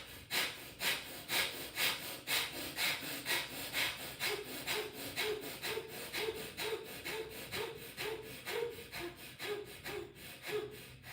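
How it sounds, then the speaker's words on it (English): Vigorous bellows breathing during a yoga pranayama session, rapid forceful inhales and exhales pumping in a steady, even rhythm, close and loud, with no talking. "this particular breath, the bellows breath, is to bring you some energy"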